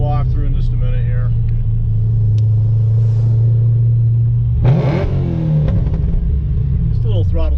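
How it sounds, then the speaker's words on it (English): A 2010 Camaro SS with a 3-inch exhaust idles with a deep, loud rumble, then a sharp throttle snap sends the revs up briefly before settling again, and someone talks over it. "Just a little throttle snap to make sure everybody knows we're in town, right?"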